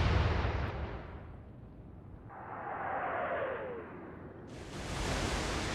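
A salvo of naval guns fired in the Atlantic Fleet battle game: a broad, rumbling blast with a whooshing shell flight, settling, then a second burst of noise near the end.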